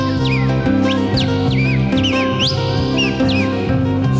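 A voice imitates a cardinal's song with a series of short, bright, upward-flicking chirps repeated every half second or so, riding on top of loud, pulsing music.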